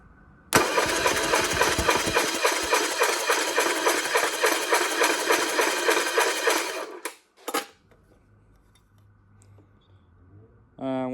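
A Yamaha 50hp outboard motor fires up and roars loudly at open throttle with a fast, steady throb for about six seconds, then cuts out abruptly. A brief sputtering burst follows before it falls quiet.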